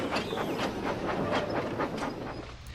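A train engine pulls away with its old coaches in tow, heard as a steady rumbling roll with a faint rhythmic clatter of wheels, moderately close and continuous with no voices.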